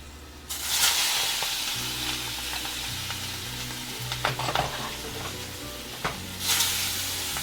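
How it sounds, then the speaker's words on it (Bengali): Fish dropped into hot oil in a pan sets off a loud, close, continuous sizzling hiss, with scraping strokes and a few clatters of a utensil throughout. "মাছটা দিয়ে দিই।"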